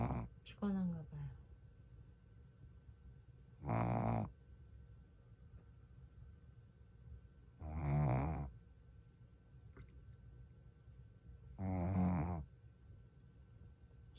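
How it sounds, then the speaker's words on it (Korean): A sleeping Shih Tzu puppy snores softly in a quiet room, with three slow, regular snores a few seconds apart, faint and close. "강아지가 코를 골고 자고 있어요."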